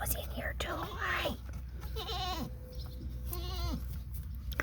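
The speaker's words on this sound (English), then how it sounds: "I just love baby goats." Baby goats bleat in short, wavering cries close by, several calls over a few seconds, with soft whispery talk and background rustle between them.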